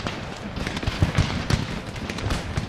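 Musket volleys in an Empire: Total War battle on open plains, sounding as a ragged crackle of many distant shots popping irregularly in quick succession, moderately loud with no voices.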